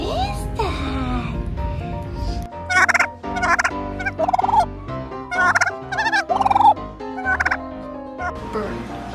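A pet parrot, a female, gives a run of loud, close squawking calls in short bursts after a person speaks briefly at the start.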